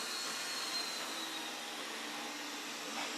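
An Ecovacs robot vacuum cleaner runs in vacuum-only mode, giving off a steady, even whirring hiss that holds level for the whole stretch with no voices.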